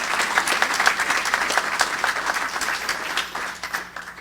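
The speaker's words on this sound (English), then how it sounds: "let's give all these gentlemen a round of applause" An audience at a chamber of commerce event applauds steadily, many hands clapping together at moderate distance, fading slightly toward the end.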